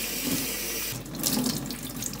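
Water runs steadily from a tap to wet a cotton cloth, a close, continuous splashing stream with a brief change in tone midway as the flow hits the fabric.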